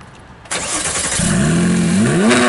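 A Porsche GT3 RS, already warm, is started: a short cranking burst catches into a loud engine note that rises and climbs in pitch, then holds a strong, revving idle close by.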